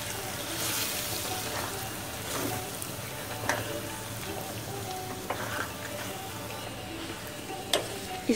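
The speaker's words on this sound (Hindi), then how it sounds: "बराबर चलाते रहेंगे, छुटाते रहेंगे, घी छूटने तक भूजेंगे" Moong dal sizzling and frying in ghee in a pan while being stirred, a steady dense crackle with occasional scraping clicks from the spoon, close and continuous.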